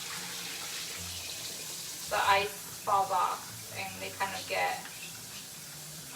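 Cold tap water runs steadily over frozen shrimp in a kitchen sink to thaw them, a continuous hiss and splash heard under a person talking.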